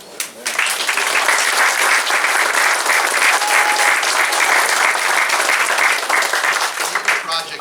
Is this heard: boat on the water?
no